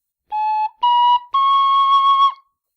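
Three clear, pure notes played on a D tin whistle, each held and rising slightly in pitch, the last sustained longest, alone with no other sound.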